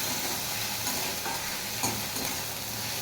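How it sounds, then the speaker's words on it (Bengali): Onion, green chilli and chopped coriander frying and being stirred in a pan, giving a soft, continuous sizzle with faint scraping stirs, fairly quiet with no voices. "এবার দিয়ে দেওয়া হলো কাঁচা লঙ্কা আর ধনে পাতা কুচি। আবার একটু ভালো করে ভাজা ভাজা করতে হবে।"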